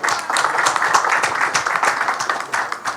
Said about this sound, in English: please give a huge round of applause for all our esteemed dignitaries with us